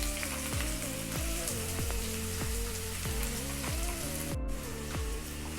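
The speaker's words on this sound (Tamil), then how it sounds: "வெங்காயம் நல்லா வதங்கட்டும்." Small chopped onion sautéing in wood-pressed oil for green chicken gravy, a dense crackling sizzle with regular rhythmic stirring strokes roughly every half second, close and steady without speech.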